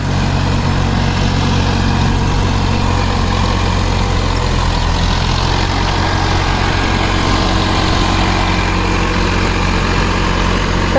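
An old Massey Ferguson 254 tractor engine runs steadily at close range, a loud, constant low diesel throb and clatter that carries on unbroken throughout.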